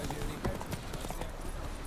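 Horse hooves clip-clopping in The Witcher 3 game, a quick run of soft hoofbeats over about two seconds, close by and partly masked by other game sound.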